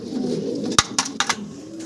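Uzbek tumbler pigeons coo softly nearby, a low murmuring call punctuated by a few sharp clicks and flutters over about two seconds.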